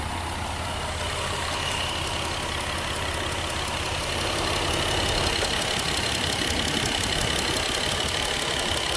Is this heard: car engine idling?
yes